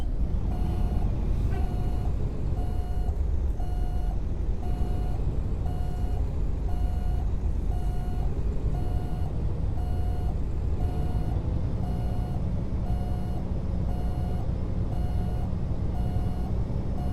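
Steady, evenly spaced reversing beeps from a Freightliner Classic XL truck in American Truck Simulator repeat for the whole stretch, loud over a low idling engine rumble.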